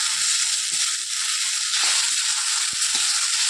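Chow mein noodles being stirred in a hot pan at home, giving a steady loud sizzle and scraping hiss throughout with occasional soft knocks of the utensil.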